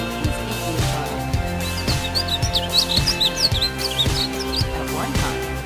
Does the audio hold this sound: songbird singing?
yes